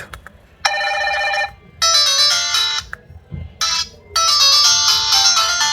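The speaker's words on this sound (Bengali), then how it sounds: "ফোনটির রিংটোনের যে সাউন্ড এটা কেমন ছিল চলুন দেখা যাক" A GEO R81 keypad mobile phone playing its ringtone loudly and up close, bright synthetic melodic bursts in several phrases separated by short gaps, with nothing else heard.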